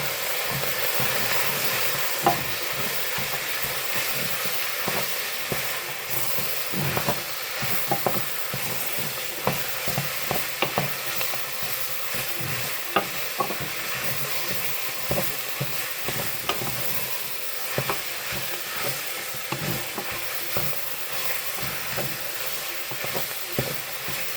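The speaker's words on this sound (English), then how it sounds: "All right, sausage is in. Now, stir it quickly." Sausage sizzles and fries in a pan while being stirred quickly, a steady broadband hiss punctuated by frequent scraping and clicking strokes throughout, no talking.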